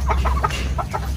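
A native laying hen clucks in a quick series of short, close, fairly loud calls in a rural backyard coop.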